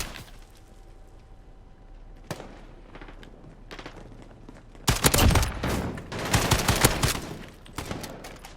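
In a video game, a sniper gun setup fires a burst of loud, rapid gunshots in the second half, after a quieter opening with scattered faint shots.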